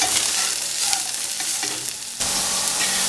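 Flour browns and sizzles in a pan while being stirred, a loud, close, continuous frying hiss with scraping stir strokes over it.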